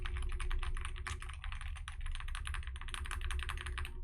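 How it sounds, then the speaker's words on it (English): Steady, rapid typing on a SteelSeries computer keyboard, close and clear, with dense overlapping key clicks over a low background hum. "Keyboard sounds really good."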